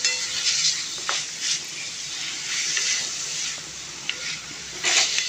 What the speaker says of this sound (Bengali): এটা একটু নেড়ে নেড়ে আমি ভেজে নেব।